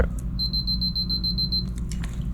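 A rapid run of high, thin electronic beeps from a camera with a fresh battery, evenly spaced and quick, lasting just over a second against a low background hum.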